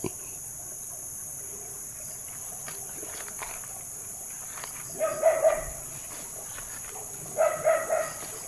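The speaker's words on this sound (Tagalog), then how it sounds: "Bakit po may aso dito sa puno ng baliti?" Two short bursts of dog barking near a balete tree, a few barks each, at moderate distance over a constant high insect drone.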